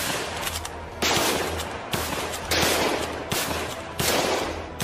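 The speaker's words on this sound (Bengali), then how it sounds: "শুরু হয় দুপক্ষের গুলির লড়াই।" Gunfire sound effect for a historical battle scene: rapid bursts of automatic shots come in several loud, dense volleys separated by short pauses, with no voices.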